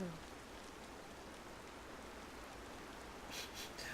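Steady, even rain falls throughout in the video game Horizon Zero Dawn, a continuous wash of droplets with a few brighter patters near the end and no voices.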